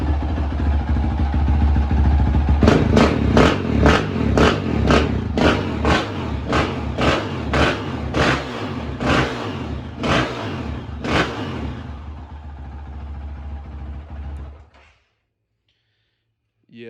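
Honda CRF450RL dirt bike, modified and running on T4 fuel, blips its throttle in a quick, steady series of sharp revs. The revs sit over a rough engine note and then cut off into silence.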